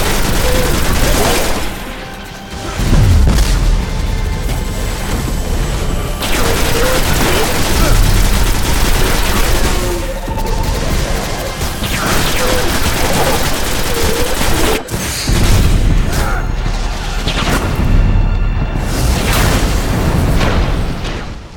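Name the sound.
gunfire from enemies and pulse rifles in Destiny video game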